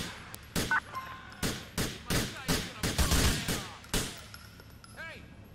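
Gunfire crackles through a shootout in the police game LCPDFR: a rapid series of about a dozen sharp shots in irregular bursts, fairly loud and close, with faint ricochet-like ringing between them.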